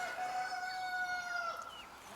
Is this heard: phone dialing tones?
no